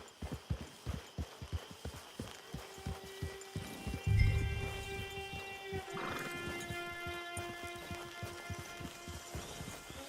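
Horse hooves clip-clop in a steady, rapid rhythm through a Red Dead Redemption 2 game scene, with a loud snort or whinny-like burst partway through, layered over sustained droning tones from the game soundtrack.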